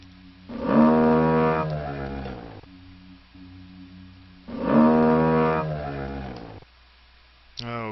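Two long, loud harmonic cow moos from Return to Zork, each lasting about two seconds and separated by a short pause, with a soft hum running underneath and a brief sound at the very end.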